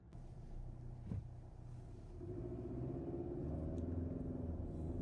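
Kia Telluride turbocharged 4-cylinder engine revving up while driving, a steady low drone and road rumble inside the cabin that swells as the revs climb.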